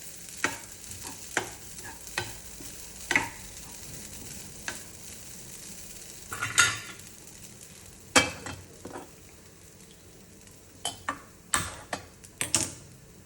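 Paruppu usili, a Tamil lentil crumble, sautéing in a pan, with scattered scrapes and taps of a spatula over a faint background sizzle. Nobody speaks.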